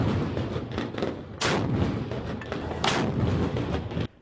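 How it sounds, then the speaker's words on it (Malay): Giant wooden cannons, four to eight metres long and carved from durian or other tree trunks, fire for Eid night in Pontianak, giving a run of deep booming blasts with two strong surges over a rolling rumble of repeated shots. "Dentuman meriam itu memecah keheningan malam raya penduduk di Pontianak."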